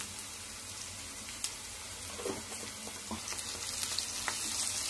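Ginger garlic paste frying with onions and curry leaves in a drumstick and brinjal curry base, a steady close sizzle with spoon scrapes and stirring clicks running under no speech.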